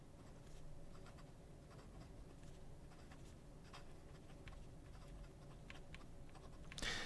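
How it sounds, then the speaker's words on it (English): A Visconti Opera Master Savanna fountain pen moves quickly across paper, giving a faint, steady scratchy patter of nib strokes close to the microphone, with a brief louder rustle near the end. "Fast writing."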